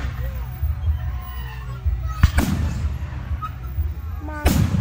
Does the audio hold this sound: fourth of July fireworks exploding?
yes